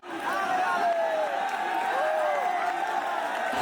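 A large, dense crowd at a protest in Delhi, a continuous roar of many voices close around with scattered shouts and whistles, steady and loud throughout.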